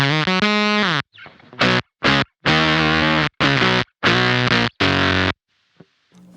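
Electric guitar driven through a Beetronics Abelha fuzz pedal with the high end boosted gives bright, buzzy fuzz, heard as an opening held note followed by a string of loud chopped chords with gaps between them.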